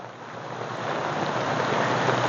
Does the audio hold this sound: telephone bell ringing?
no